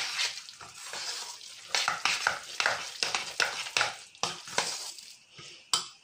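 Rice being stirred with olive oil in a frying pan, soft sizzling under repeated scraping strokes of a utensil against the pan, close and alone without speech.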